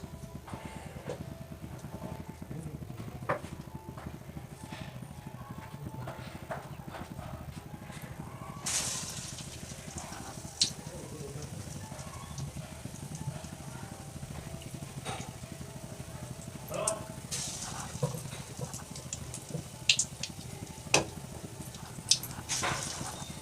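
Egg bonda pieces sizzle in hot oil in a frying pan, making a steady crackling hiss with scattered sharp pops throughout.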